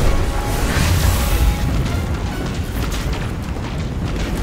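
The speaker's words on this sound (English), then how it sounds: "Missiles! Stay inside my shield!" Continuous heavy rumble of missile explosions in the video game Destiny 2, a dense, loud wash of booms with no distinct breaks and no talking.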